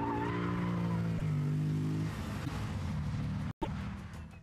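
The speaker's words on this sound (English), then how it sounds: "nice deep throttle that you hear every time you step on the gas" Lexus IS F engine revving under throttle, a deep steady sustained drone that rises and holds before briefly cutting out and returning.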